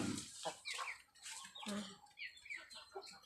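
Domestic farmyard chickens cluck in a series of short, irregular calls, close but fairly quiet, with no talk over them.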